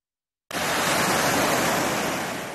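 Sea waves at a beach in Alanya on a warm sunny day, a steady broadband wash of surf that starts suddenly and holds at a constant loud level before easing slightly.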